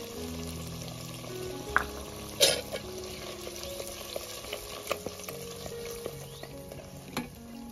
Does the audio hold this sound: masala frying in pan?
yes